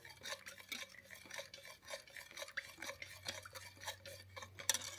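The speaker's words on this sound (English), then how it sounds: "you just want to stir it in there until, you know, your beef base is dissolved" A spoon stirs beef base into liquid in a pot, making soft, steady scraping and clinking strokes close by, with no talking.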